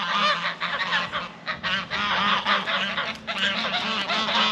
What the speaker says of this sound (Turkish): Kazlarım da orada bakın.